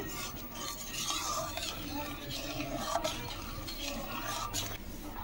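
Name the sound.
stirring milk mixture for palm fruit ice cream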